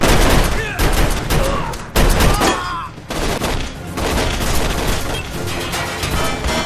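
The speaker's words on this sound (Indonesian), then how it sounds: "mereka bertiga diserang oleh pasukan Drake yang menyebabkan Jeff terkena tembakan di bagian perutnya" Rapid bursts of gunfire crackle loudly and continuously, with heavy booms and sharp shots layered in a dense, chaotic firefight.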